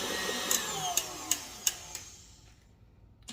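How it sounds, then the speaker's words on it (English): Cocoa and powdered sugar icing is whisked in a bowl: a steady whirring hum with several sharp taps against the bowl, then fading out to near silence. "I'm just whisking it till it's nice and fluffy."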